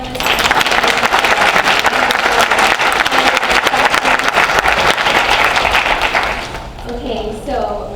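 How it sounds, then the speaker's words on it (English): Audience applause for the panelists at a forum on the crisis of suicide among Black youth, loud, dense and sustained for about six seconds before fading as a voice begins talking. "Yes, can we applaud our panelists?"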